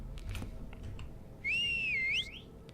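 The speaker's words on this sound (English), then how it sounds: "I whistle with my hand." A character in the Elder Scrolls: Oblivion video game whistles with a hand, one high, sustained, wavering whistle lasting under a second, heard over faint clicks and a quiet background hum.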